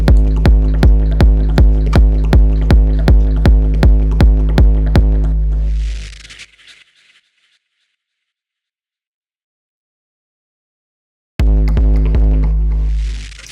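Electronic tekno kick drum layered with a Punchbox bassline tail: a rapid, steady run of loud, deep thumping kicks for about six seconds, then a hissy fade, silence, and the pattern returning at the end.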